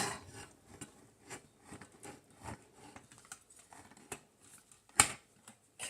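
A knife cuts slowly through a bar of melt and pour soap, giving a string of soft scraping clicks and small taps over several seconds, with one sharper knock near the end, close by in a quiet room.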